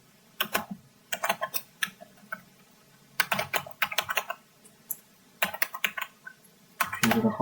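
Rapid bursts of typing on a computer keyboard, keys clacking close by in quick clusters separated by short pauses, with no voices.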